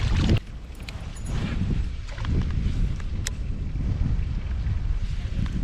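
Wind blows steadily across a free-flowing creek in central Arkansas during kayak fishing, a low gusty rumble buffeting the microphone throughout with no talking.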